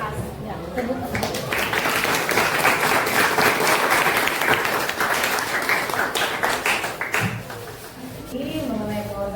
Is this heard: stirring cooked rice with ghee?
no